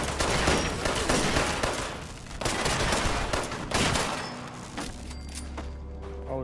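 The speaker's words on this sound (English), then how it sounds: "Did you already start shooting?" Rapid bursts of gunfire in Fallout 76 fill the first several seconds, loud and dense with overlapping shots, then thin out into quieter, sparser thuds near the end.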